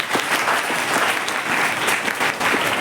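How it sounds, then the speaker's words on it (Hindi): At a Republic Day celebration, an audience breaks into clapping. Many hands beat in a dense, lively patter with some sharper individual claps, steady and fairly close throughout. "तालियां बजाने की।"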